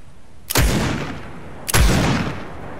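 Grenade launches and explosions in a video game, two loud booming blasts about a second apart, each with a sharp onset and a long rumbling decay.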